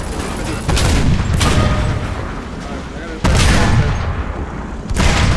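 Gunfire and tank cannon fire ring out in a tank battle in the war game Foxhole: three heavy, loud booms over continuous rattling small-arms fire.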